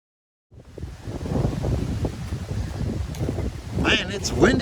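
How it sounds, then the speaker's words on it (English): Strong wind on an Appalachian Trail mountain ridge roars and buffets the microphone in a continuous rushing gust, loud and close, without clear speech. "Man, it's windy up on this ridge."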